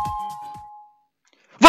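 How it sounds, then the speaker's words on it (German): A doorbell in the VRChat video game chimes once with a clear, sustained ding-dong tone that fades out. Silence follows, then a sudden loud burst of noise at the very end. "Wir klingeln mal bei ihm."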